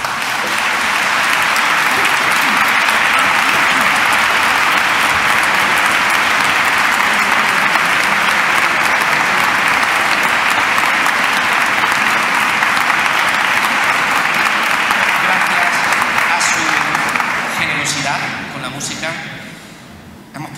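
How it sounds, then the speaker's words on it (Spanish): Sustained, dense applause from a large concert audience in Córdoba's Mosque-Cathedral honoring orchestrator Óscar Senes, loud and steady throughout before tapering off near the end. "al cual pido un fuerte aplauso."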